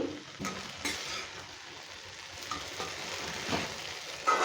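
Okra stir-fry stirred in a pan after the lid comes off, with soft scraping and light sizzling, a few louder clinks of the spoon against the pan, close and steady, no talking.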